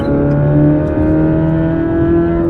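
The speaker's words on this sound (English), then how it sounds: "You can actually accelerate out of a corner." A Corvette C8 Z06 accelerates out of a corner, its engine note a loud, close, steady sustained drone rising slightly in pitch over a couple of seconds, alone without talk.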